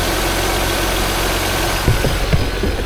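A car engine idles with the AC compressor clutch engaged and spinning, a close, steady mechanical hum and whir with a few faint knocks near the end, no voices.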